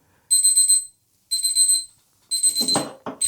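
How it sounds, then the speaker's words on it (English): An electronic alarm beeps in three bursts of rapid pulsing tones, loud and close, with a voice starting to talk at the end. "Sorry, that's my alarm."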